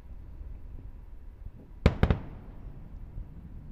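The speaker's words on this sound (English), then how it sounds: "Those sonic booms just sounded here at the Kennedy Space Center." A returning SpaceX Falcon 9 first-stage booster sets off a sharp cluster of three distant sonic booms at Kennedy Space Center, cracking in quick succession over low rumbling background noise.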